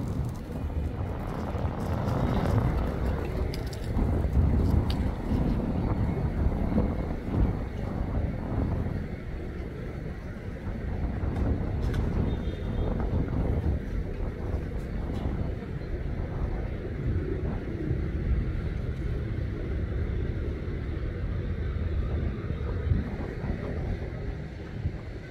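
Old boats travel back and forth on a river, with a low motor rumble that swells and fades along with gusty wind buffeting the microphone and faint distant background noise.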